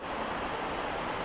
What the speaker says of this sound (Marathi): पाऊस काय थांबायचं नावच घेत नाही मुसळधार पाऊस सुरूच आहे